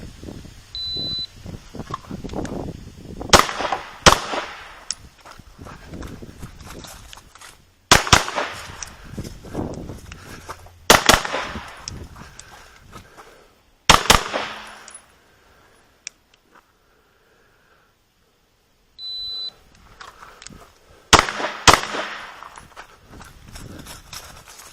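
Rifle shots fired at longer-range targets during 3-Gun practice, sharp loud cracks spaced several seconds apart, some in quick doubles, with quieter handling noise and movement between them and a near-silent pause partway through.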